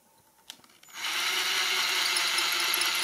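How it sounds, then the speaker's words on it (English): After a couple of faint clicks, a 1/8 inch drill starts up to bore pilot holes about half an inch deep and holds a loud, steady high whine, close by, with no talk. "we're going to use a 1/8 inch drill to make our pilot holes"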